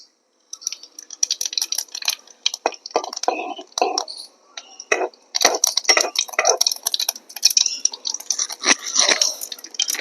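Cumin seeds tossed into hot oil in a pan for baingan bharta, a bright crackling sizzle of rapid pops and spits that swells and fades in bursts, close by with no talk.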